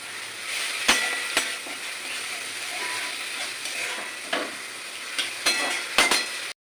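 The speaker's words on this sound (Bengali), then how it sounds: "আমার ভালো পেঁয়াজটা খুব ভালোভাবে ভাজা হয়ে গেছে" Chopped onions frying in a pan, a steady sizzle with occasional sharp scrapes and clacks of stirring, close and alone without talk.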